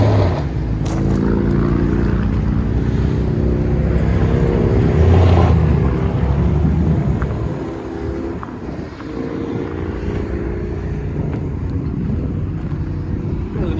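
A 2014 Toyota Tundra with a 5.7L V8 and a Dirty Deeds cat-back exhaust drones loudly nearby, its deep rumble easing down partway through and settling into a lower, steady note.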